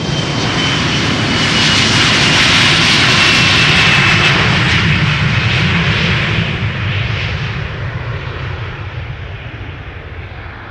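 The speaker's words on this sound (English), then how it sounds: "And Embraer 175, 7 years old, will be passing in front of us from right to left in a moment." KLM Embraer 175 jet at Schiphol during a parallel departure, a loud close engine roar that swells over the first few seconds and then slowly fades as the aircraft passes.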